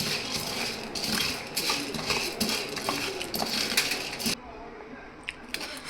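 Sago pearls rattle and skitter against a pan in repeated scraping bursts as they are stirred, then the stirring stops and the pan quiets.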